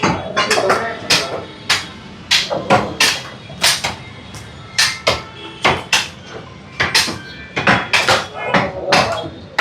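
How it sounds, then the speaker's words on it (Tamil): Repeated sharp chopping thuds as about three people cut up Eid Qurbani goat meat, the blows landing in quick irregular bursts with close metallic knocks and voices in the background. "ஸோ கிட்டத்தட்ட நம்மளுக்கு வந்து ஒரு 3 பேர் சேர்ந்து இப்போ வெட்டுறாங்க"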